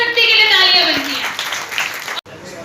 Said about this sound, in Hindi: महिला शक्ति के लिए तालियां बनती हैं